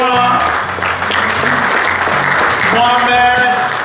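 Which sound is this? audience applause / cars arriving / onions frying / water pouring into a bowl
audience applause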